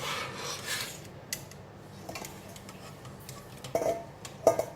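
Cooked red beans scooped out of a pot, soft scraping and wet shuffling broken by a few sharp metallic clinks of a utensil against the pot, close and quiet, with no talking.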